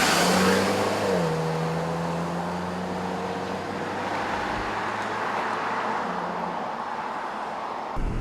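A 2014 Jeep Cherokee driving on the road, heard from inside as a steady engine hum and road noise, with a rise in engine pitch early on and then a smooth cruise, no talking.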